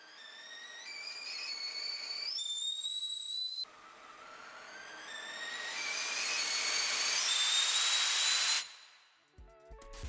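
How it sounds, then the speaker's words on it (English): A bit-crushed, distorted whistle melody in a chiptune-style cooking music track, a bright wavering tone that steps through pitches and slides upward, growing louder with a hissy edge before cutting off abruptly near the end. "used a bit of bit crusher in the whistle just to make it sound a little bit more distorted"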